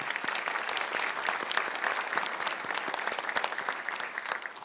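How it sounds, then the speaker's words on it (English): Sustained applause from a conference audience at a homeland security discussion, a dense steady patter of many hands clapping throughout with no talk over it. "I'd like to start really quickly by us giving them both a round of applause."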